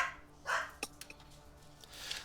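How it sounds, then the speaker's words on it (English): A dog barks a few times, short sharp yips scattered over a couple of seconds, fairly distant and quiet behind a room setting during a tabletop game session. "Sorry about the dog."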